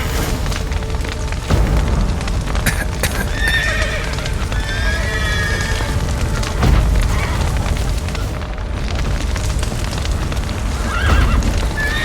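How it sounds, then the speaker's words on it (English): Horses in The Witcher 3 whinny and neigh several times over a dense, rumbling background of burning and crashing, with hooves clopping intermittently and the neighs rising clearly above the din. "The horses!"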